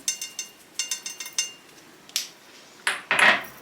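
A utensil stirring food in a pot seasoned with mint, chili flakes, black pepper and salt, a series of sharp metallic clinks and scrapes in irregular bursts, close and fairly loud.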